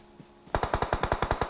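Rapid automatic gunfire in the mobile battle royale game PUBG Mobile, a burst of about ten evenly spaced sharp shots after a brief quiet lead-in, loud and close with no talk.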